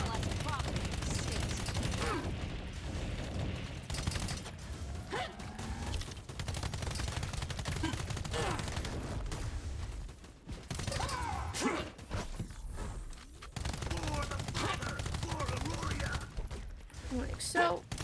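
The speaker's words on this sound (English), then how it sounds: "It's because I'm shooting the shield." Rapid gunfire from a video game weapon striking an enemy's shield, bursts of shots with mechanical clanks and creaks over a dense game soundscape, alongside faint speech.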